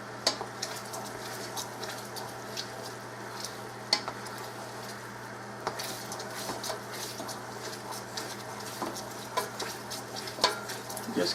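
Candied peanuts being stirred in a pan, a soft continuous sizzle with scattered ticking clicks of nuts against the pan, close and steady throughout.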